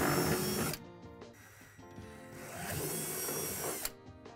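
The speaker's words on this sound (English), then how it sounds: "drill out two holes from underneath the deck" A power drill bores holes up through the underside of a plastic playset deck during assembly, a steady whirring run that stops briefly, then whines on again at moderate volume with no talk.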